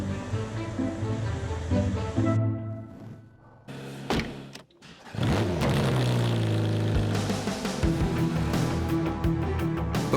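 A McLaren 720 being driven up into the hold of an Antonov AN-124 cargo plane, a steady engine and mechanical drone echoing in the cavernous bay, with a couple of thuds midway, no talk.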